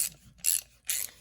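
A Tekton 1/4-inch drive ratchet from a 6-point socket set clicks in three short, crisp bursts with brief pauses between, close and clear.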